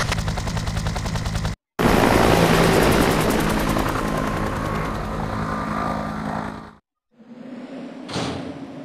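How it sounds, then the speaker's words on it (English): Helicopter in the Resident Evil 3 video game, a loud close rotor thrum with rapid beating blades that holds steady, then breaks off in a short silence and returns more quietly under a metallic clank. "Carlos, Nikolai beat us to the chopper"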